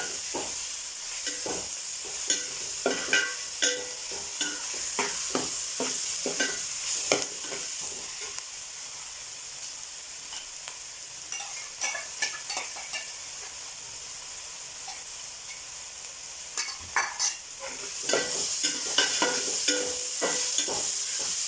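Ginger garlic paste sizzles and fries in a pan for chicken curry, with steady hissing broken by frequent scraping stirs of a spoon, close and fairly loud, with no voices.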